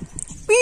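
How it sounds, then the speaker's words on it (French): An eight-month-old female small Russian toy dog gives a brief, high, wavering whimper near the end, following a stretch of quiet low background noise. "Un petit chien russe, la fille,"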